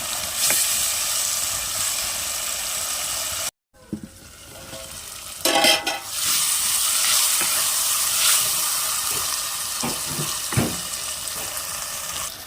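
Onions and tomatoes fry for a Kerala fish curry, a loud, dense sizzle filling the pan, briefly cut by a short pause, then resuming with scattered utensil scrapes and clinks.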